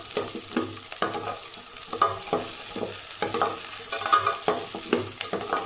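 Garlic fries in a pan for a broad bean and brinjal kuzhambu, a continuous crackling sizzle broken by repeated clicks and scrapes of a stirring spoon, close and steady, no speech.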